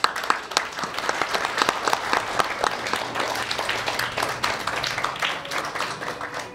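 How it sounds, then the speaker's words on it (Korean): Applause from a gathered audience at a women's association meeting, many hands clapping steadily and fairly close for several seconds, with a faint murmur of voices underneath. "박수 부탁드립니다."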